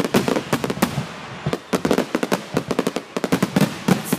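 Independence Day fireworks at Ronald Reagan Sports Park in 2012 burst in a rapid, dense barrage of sharp, loud cracks and booms, with many overlapping explosions and only brief gaps throughout.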